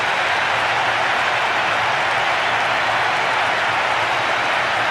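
A stadium crowd in Pro Evolution Soccer 6 cheers after a goal in an FC Barcelona vs Real Madrid match. The roar stays broad and steady for about five seconds, with no pauses and no voices standing out.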